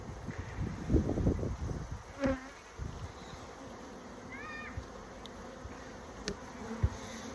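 Honeybees hum faintly around an opened hive during an inspection, a thin, continuous buzz beneath scattered handling knocks and clicks, with occasional brief louder thumps.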